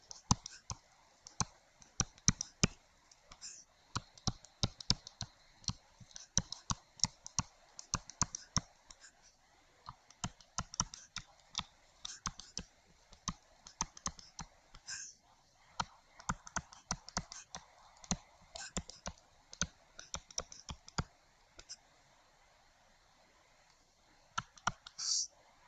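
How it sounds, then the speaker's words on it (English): Marker or pen strokes scratching out algebra equations for an elimination problem, a steady run of quick, close clicking and squeaking taps with brief pauses, fairly faint and with no talk. "So I'm just going to write these down."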